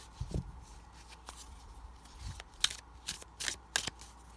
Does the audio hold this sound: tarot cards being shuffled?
yes